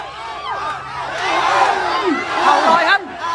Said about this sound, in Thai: มาครับเสียงเชียร์จากทางบ้านนะครับ